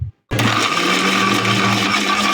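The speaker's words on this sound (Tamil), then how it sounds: "பூண்டையும் அதே மாதிரி ஒரு வாஷ் பண்ணிவிட்டு நம்ம அரைச்சிடலாம் அதையும் நைஸாக அரைச்சிடலாம்" An electric mixer grinder whirring loudly and steadily as it grinds garlic smooth, starting abruptly after a brief silence and running without pause.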